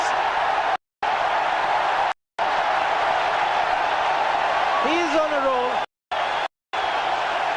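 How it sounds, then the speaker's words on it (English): Stadium crowd cheering and applauding a six during an India versus Pakistan cricket match in India, 2004, a loud continuous roar under commentary, with a few brief dropouts. "The crowd's loving it."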